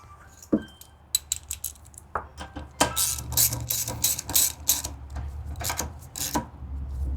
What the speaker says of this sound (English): So we'll go ahead and reinstall this spark plug.